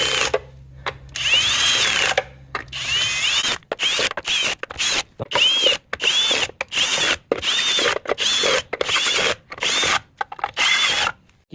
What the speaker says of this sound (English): So putting the hubcaps on, I really like using a drill, not an impact or anything else.